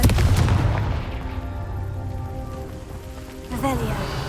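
A Confringo explosion spell from Hogwarts Legacy bursts with a loud boom, its rumbling tail fading over a few seconds before a second sharp blast hits near the end.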